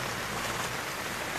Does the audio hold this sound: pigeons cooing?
no